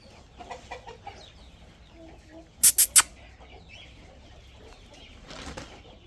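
A black rooster clucks softly, then flaps its wings in three sharp loud bursts, with a few more clucks and rustles afterward.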